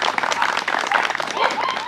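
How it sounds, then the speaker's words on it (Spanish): Brief burst of audience applause for Lupita Montoya on a Mexican radio broadcast, dense clapping with a hint of crowd chatter and voices mixed in throughout. "Fuerte el aplauso para Lupita."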